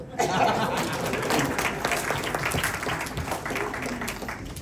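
Audience applause at a felicitation speech event, a dense wash of clapping with some chuckling and crowd murmur, moderately loud and continuous.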